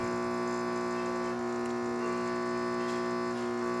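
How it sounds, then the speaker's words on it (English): A Rancilio espresso machine, freshly serviced with new hoses, hums steadily as its pump pressurizes while pulling a shot, a continuous close mechanical drone with faint ticking and no voices. "Machine is pressurizing properly and is keeping up as well."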